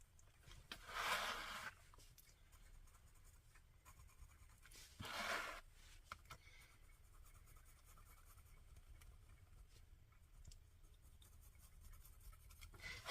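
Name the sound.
pencil sketching on an art journal page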